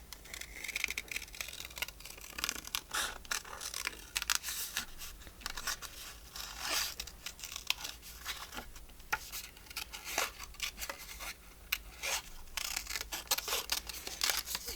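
Scissors snip through paper in steady, close cutting strokes for fussy cutting around a printed figure on a craft journal page, with irregular crisp snips and light crinkling throughout and no talk.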